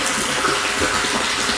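Water pumped up from a jungle creek pours steadily into water tanks, a loud continuous gushing rush close by with no break.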